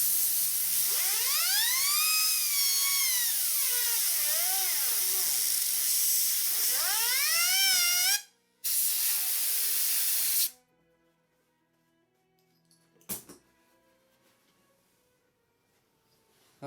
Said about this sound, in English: get your trusty air hose, and spin it with the fan.